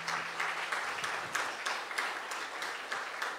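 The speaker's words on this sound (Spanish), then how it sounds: "Démosle un fuerte aplauso al doctor David" Audience applause for Doctor David at a civic dialogue event, a steady wash of many hands clapping close by with no talking over it.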